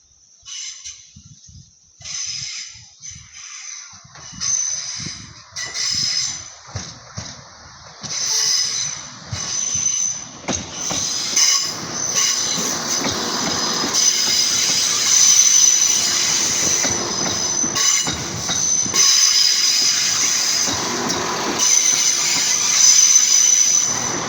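Class 171 diesel multiple unit 171801 passes through Hastings station with loud wheel squeal, a long sustained high screech rising over steady rumble and holding close and loud through the pass, with no talk.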